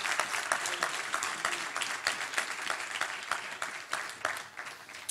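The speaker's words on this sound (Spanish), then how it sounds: "aplaude a Dios." Applause from a church congregation during a sermon carries on as a sustained spatter of hand claps with individual sharp claps standing out, uneven in loudness and with no speech over it.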